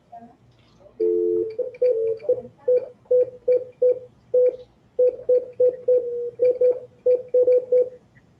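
A telephone call being placed during a panel discussion: a series of short, evenly spaced electronic tones pulse in a steady rhythm, clear and isolated over a quiet room hum.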